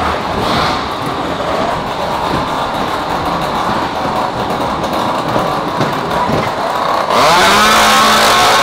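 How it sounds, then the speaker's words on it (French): A loud, continuous engine-like roar resembling a revving chainsaw on a fairground ride fills the scene, steady and harsh with no pauses, growing slightly louder near the end. "La tronçonneuse, on s'y attendait pas."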